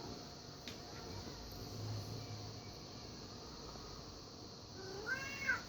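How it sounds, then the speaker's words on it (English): A pet cat gives a faint meow toward the end, a short rising cry over a steady hissing background with no talk. "Are you all meowed out?"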